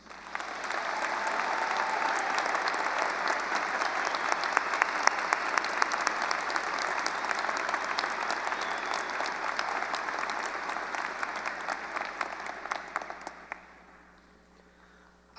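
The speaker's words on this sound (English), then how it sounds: "Please join me in a round of applause for those veterans in attendance." Sustained applause from a large audience honoring veterans at a 2024 high school graduation ceremony, dense and steady throughout before fading out near the end.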